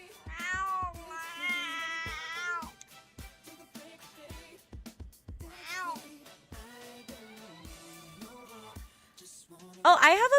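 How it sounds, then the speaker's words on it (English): A cat meows repeatedly in the background, several drawn-out cries scattered between stretches of a person talking, ending with a louder, closer yowl. "He's just meowing."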